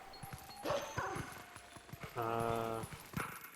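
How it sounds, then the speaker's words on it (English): A howling stone in the video game Zelda: Twilight Princess gives off a short, steady, tonal hum partway through, amid faint game sounds and soft thuds. "there's another one of those howling stones up there. You can hear it."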